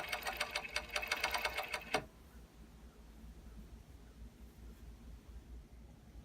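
Serger sewing machine stitching spaghetti straps: a close, fast, steady mechanical whir and clatter for about two seconds that stops abruptly, leaving quiet room noise.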